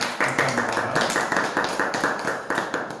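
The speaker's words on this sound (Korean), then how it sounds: "하나님께 박수 한번 주시겠습니다" Congregation clapping together during a youth church worship service, a fairly steady rhythmic patter of hands that continues for a few seconds at moderate volume with no talk over it.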